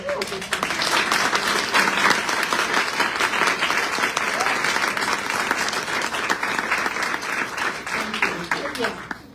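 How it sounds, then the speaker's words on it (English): An audience applauds steadily, dense clapping from a crowd filling the room for several seconds before tapering off. "I think we need to do another round of applause"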